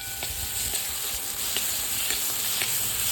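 Homemade masala roasts in oil in a pan on a village-style cooking fire, giving a dense, steady sizzle with faint periodic stirring ticks, close and constant.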